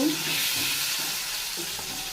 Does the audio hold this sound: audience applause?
no